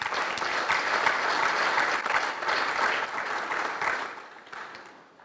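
A gathered audience claps in sustained, dense applause that holds steady for several seconds, then thins and fades to quiet toward the end.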